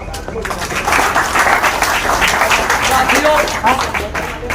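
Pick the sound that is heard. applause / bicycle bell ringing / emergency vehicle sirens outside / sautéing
applause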